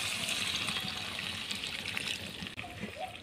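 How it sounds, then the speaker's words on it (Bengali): Reheated hot water is poured into a pot of browned chicken curry, a close, steady splashing gush that tapers off near the end. "এবার এর মধ্যে আমি জল দিয়ে দিচ্ছি।"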